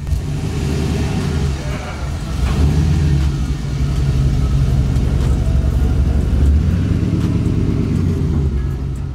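A Chevy C10 pickup with a turbocharged LS V8 rumbles while driving, a loud, close, deep engine drone that swells in revs partway through, with people talking over it.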